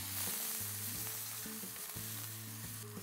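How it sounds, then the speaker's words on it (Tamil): Chopped onions sautéing in oil for a bindi do pyaza, a steady close sizzle and fry with a few stirring scrapes of the spoon across the pan, no voices. "இந்த ஆயிலில் அந்த வெங்காயத்தை நல்லா வதக்குறேன்"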